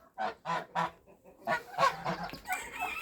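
Geese honk nearby in a yard, three spaced loud calls followed by a denser cluster of overlapping honks and cackles.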